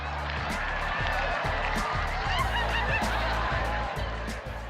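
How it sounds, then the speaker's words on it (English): A goose-like bird on a golf course honks repeatedly in a steady, loud run of calls as it makes off with a golf ball, with rhythmic flapping or movement thumping beneath. "the outside agency is a bird, and it's intent on flying away with the ball"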